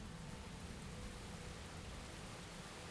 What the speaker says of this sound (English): And we got the rain coming in.